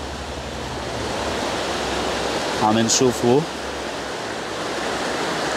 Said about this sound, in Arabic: هيدا نهر البردوني